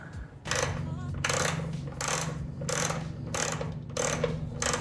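A nut is screwed onto a bolt during wiring work on an EF Civic, giving several bursts of close, clicking ratchet-like mechanical turning separated by brief pauses.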